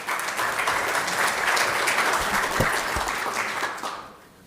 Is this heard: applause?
yes